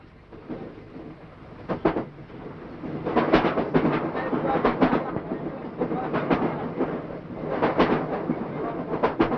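A moving train heard from inside a carriage: a steady rumble with recurring bursts of rhythmic wheel clatter rising and falling, fairly close and continuous throughout.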